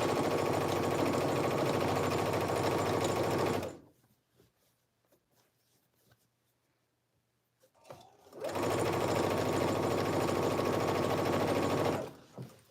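Close, loud whirring of a sewing machine stitching a jacket seam runs for several seconds, stops for a quiet pause, then resumes for another long burst before cutting off, as with a back stitch at a notch.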